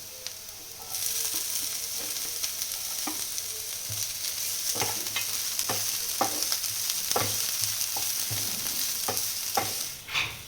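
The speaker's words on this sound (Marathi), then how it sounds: "चांगलं भाजते आपल्याला, भाजून घेऊया चांगलं. शिमला मिरची टाकते जरा." Capsicum is stir-fried in a hot pan for gobi Manchurian, a steady close sizzle broken by repeated scraping strokes of a spatula, with no talking.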